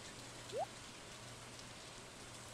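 Steady soft rain falls in the farming video game Stardew Valley, a constant hiss with a couple of brief chimes, quiet and without talk.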